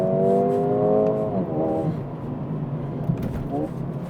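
Mercedes-AMG CLA35 engine note holding a steady pitch, then stepping down and back up in short revving blips through downshifts, heard from inside the car over a low road rumble.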